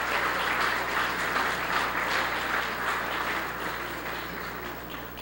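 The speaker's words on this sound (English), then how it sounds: "he deserves a round of applause with him" Steady, dense applause from a lecture hall audience honouring a distinguished scholar, a continuous close wash of clapping that holds loud for the whole stretch with no voices.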